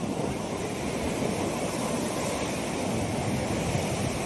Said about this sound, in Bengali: দেখেন সমুদ্রের ঢেউ